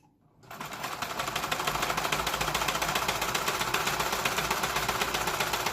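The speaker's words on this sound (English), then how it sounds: "Put your presser foot back down and just continue on stitching." A sewing machine stitches cloth for a soap sack, running steadily with a fast, even mechanical whir and rhythmic needle chatter. It starts up quickly and keeps going close by without talk.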